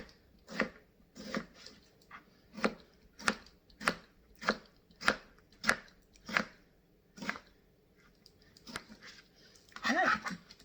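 Tomatoes are sliced with a knife in a steady run of about a dozen sharp taps on a cutting board, close and clear, ending with a brief rustle.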